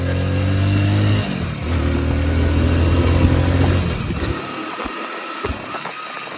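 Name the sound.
motorcycle engine misfiring on E20 petrol, throttle body issue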